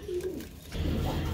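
Bombay pigeons coo in a low, soft, rolling call, one brief coo followed by a fuller burst, close by and quiet with no talk.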